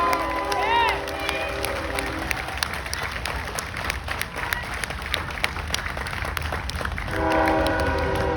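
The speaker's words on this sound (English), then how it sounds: "I need that train to go" A train passes near an outdoor protest crowd, with a horn blast near the start and again near the end and a continuous rumble of cars between, loud over crowd noise and scattered voices.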